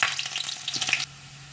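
Small shallots drop into hot oil already popping with mustard seeds for a Kerala egg roast, giving a bright, close crackle and sizzle for about a second before it suddenly falls away to a low hum.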